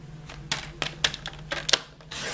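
Paper being cut into strips for a handmade mini cube card with a stamp set, giving a series of crisp snips and clicks at an uneven pace, close and fairly quiet, over a low steady hum, without talk.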